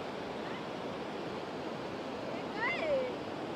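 Sea waves wash back down the beach at Guhagar, a soft, steady hiss of receding surf that swells slightly near the end, with a faint bird chirp.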